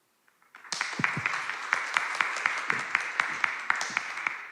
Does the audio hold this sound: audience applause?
yes